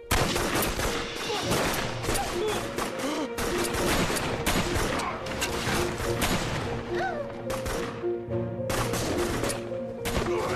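Dense gunfire volley in a jungle battle scene from an action film, continuous loud overlapping shots and bursts that keep up for several seconds with little pause.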